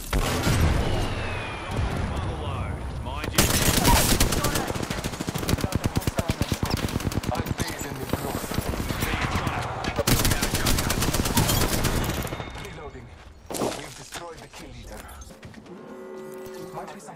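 Long, loud, rapid machine gun bursts in a video game, clattering almost without a break for about twelve seconds, then a few scattered booms and quieter clatter as the shooting ends, with voices heard in places.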